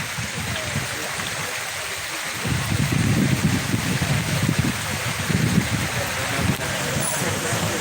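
Steady rain falls outdoors, a dense even hiss that swells heavier after the first couple of seconds and continues without a break to the end.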